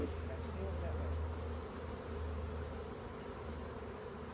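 Bees buzz steadily and thickly around an open hive during a honey harvest, a constant close drone with a low hum underneath and no clear voices.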